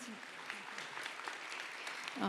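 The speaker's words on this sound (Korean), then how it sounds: "박수로 환영해 주십시오" Scattered applause from a forum audience in a hall, moderately loud and continuous, with a voice briefly starting up at the very end.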